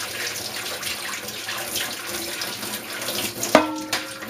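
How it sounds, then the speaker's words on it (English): Water running out of the tap of a MiniKeg, a soft continuous hiss of flowing liquid, fairly quiet and steady, broken near the end by a sharp click followed by a brief ringing tone. "Watch what happens when I turn the tap. Hear that whistle? That water's coming out."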